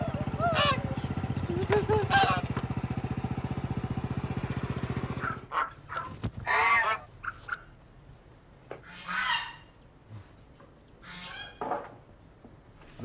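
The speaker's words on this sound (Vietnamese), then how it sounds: "Ngỗng đâu ra đó?" A goose, newly bought at a market, honks in a short series of loud, harsh calls after a stretch of background music in a Vietnamese drama scene.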